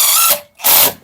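A power tool whirs in two short, loud bursts with a brief pause between them, driving a bolt while LED wheel lights are being mounted on a truck.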